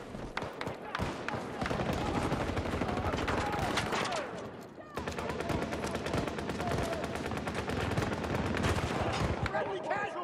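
Sustained gunfire in Battlefield 2042, with rapid automatic bursts and single shots rattling almost nonstop, loud and close, a brief lull midway before the shooting resumes, voices calling out beneath.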